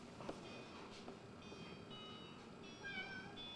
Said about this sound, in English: There comes the cat.